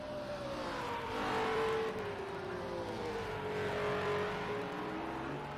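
A race car engine in a racing video game at Road America holds a steady, loud, high-pitched drone with a slowly falling and rising pitch, swelling slightly twice, alone with no voices.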